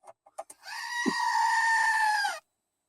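A single long, sustained goat bleat, loud and close with a strained, quavering tone, preceded by a few short clicks and cut off sharply at the end.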